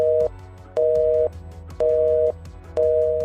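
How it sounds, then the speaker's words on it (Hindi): A telephone busy signal after a cut-off line, loud and steady, repeating in regular beeps with even pauses between them, heard alone. "इतना बोलते ही टेलीफोन का लाइन कट जाता है।"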